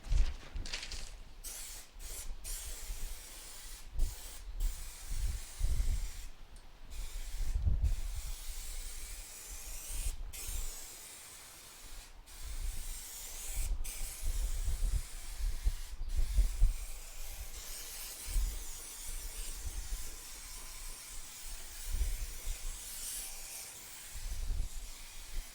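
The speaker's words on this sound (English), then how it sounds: "We're going to spray" Spray adhesive hisses from a can onto the cover of a seat pan for a 1970 Kawasaki F5 Bighorn motorcycle, coming in repeated short bursts and longer sprays between pauses, close and fairly quiet.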